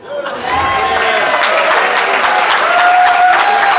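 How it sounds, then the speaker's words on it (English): Wedding guests at a reception burst into applause, a dense, loud wash of clapping that swells quickly and holds steady, with a few scattered voices and cheers mixed in. "Give me a round of applause."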